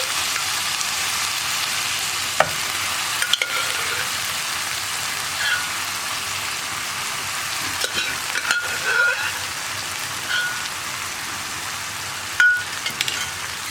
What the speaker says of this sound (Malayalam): ഇനി ഇതെല്ലാം ചേർത്തൊന്ന് ഇളക്കി മിക്സ് ചെയ്തെടുക്കാം.